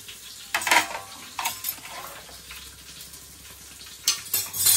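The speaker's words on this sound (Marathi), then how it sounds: "छान फोडणी झालेली आहे" Oil sizzles and crackles in a pan with garlic, cumin, mustard seeds and green chilies tempering for dal, with a few louder bursts of spattering and light stirring scrapes, close by and without talk.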